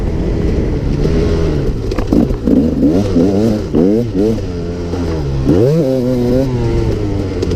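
A KTM EXC 300 two-stroke dirt bike being ridden, its engine loud and close, with a buzzing note that repeatedly rises and falls as the throttle is blipped through short revving surges.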